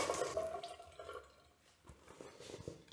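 Water rinses soap off a Longchamp bag, a soft splashing and trickling that runs steadily, eases off midway, then picks up again in uneven drips and pours.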